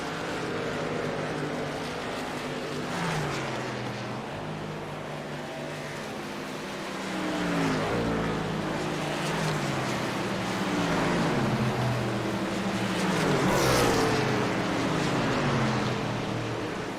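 Several racing trucks in a sim race at Nashville roar past close together, engines droning and shifting pitch as they rise and fall through gears, loud and continuous with no voices.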